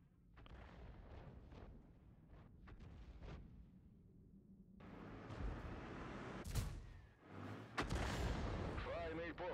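Artillery fire in the tank video game World of Tanks on the Prokhorovka map with a T92 self-propelled gun: a heavy booming shot and its rumbling echo, followed by further sharp in-game impacts, some speech audible throughout.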